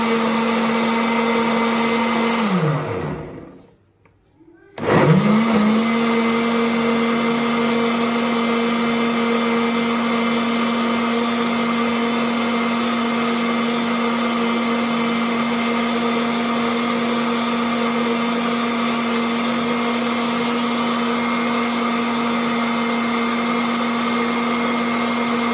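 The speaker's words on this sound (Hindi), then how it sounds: "इसको अच्छी तरह से ब्लेंड कर लेंगे।" An electric blender whirs steadily while blending peach juice with sugar and water, stopping for a moment early on and then running on loudly and evenly.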